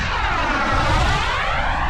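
A Global Jet Club Hummingbird RC model jet with an ACEx-80 turbine passes at half throttle, its steady, loud broadband whoosh and whine holding throughout with a slight swell in the middle.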